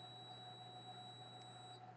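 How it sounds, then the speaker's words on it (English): A steady, high-pitched electronic tone sounds continuously and faintly, like a kitchen timer going off, with a low hum underneath and no voices. "now that it's beeping at me"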